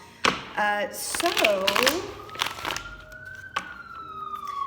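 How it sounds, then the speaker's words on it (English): A wailing emergency siren rises and falls nearby in a major city, its tone sweeping upward and lingering, with a few clattering knocks at the start. "Sorry about the sirens, y'all."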